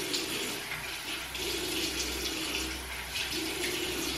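Water from a bathroom tap runs steadily into a sink while someone rinses their face, a continuous close hiss with slight splashing variations and no talking.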